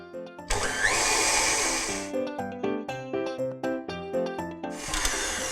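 An electric hand mixer beats cream cheese with sweetened condensed milk for a strawberry cheese filling. A loud, continuous motor whine runs first. It breaks into a series of rhythmic pulsing bursts as the beaters move through the mixture, then returns to a steady whir.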